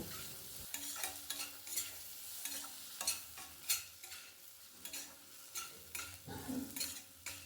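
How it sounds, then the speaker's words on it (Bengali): Chopped tomatoes with salt and spices sauté in a pan for a potato and capsicum curry, with quiet, rhythmic spatula scrapes over a soft continuous sizzle. "টমেটোটা মশলার সঙ্গে কিছুক্ষণ কষিয়ে নেব"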